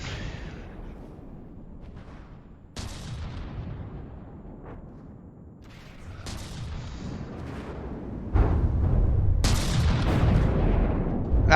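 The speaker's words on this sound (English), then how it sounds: "That was a pretty decent shot." Cannon shots from a tank battle video game, a few loud booming blasts spread across the stretch with rumbling decay between them and a heavy low roar building toward the end, no voices.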